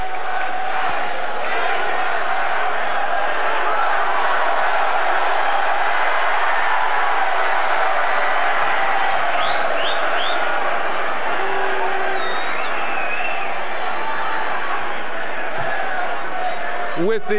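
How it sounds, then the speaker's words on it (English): The crowd at the 2008 NBA Draft keeps up a constant, loud wash of noise around the Knicks pick, with scattered cheers and a voice talking over the hubbub. "Is the crowd ready to roar or do whatever they're going to do?"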